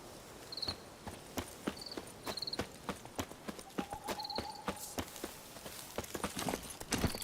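Horse hooves clip-clop steadily at a walking pace while riding through The Witcher 3, with faint crickets chirping in the background.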